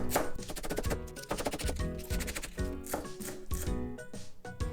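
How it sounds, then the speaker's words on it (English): A knife chops scallions on a board with diagonal cuts, a steady run of quick, close, crisp strokes with no talking. "So I'm gonna cut up the scallion first."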